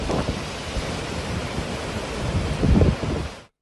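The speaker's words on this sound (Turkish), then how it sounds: "Kuvvetli rüzgarın etkisiyle dalga boyu yer yer 3-4 metreye kadar yaklaşıyor" Heavy surf with waves up to 3-4 metres roars continuously in a strong storm wind at Garipçe, Sarıyer, Istanbul, wind buffeting the microphone, swelling louder near the end before cutting off.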